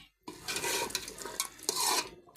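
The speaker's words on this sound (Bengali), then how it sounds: "নাড়াচাড়া দিয়ে দিচ্ছি" Curry simmering in a pot in a home kitchen being stirred, a steady scraping and clinking of the spoon against the pot with a soft sizzle beneath, close and moderately loud, broken by brief pauses.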